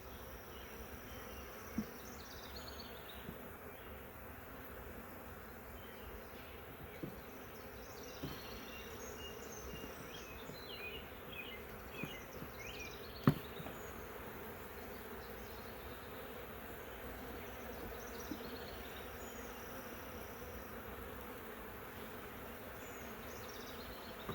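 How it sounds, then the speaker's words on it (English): A dense swarm of bees buzzes continuously up close around a hive box, a soft steady drone with a few faint knocks and taps in the background. "there's still a lot of bees in this box"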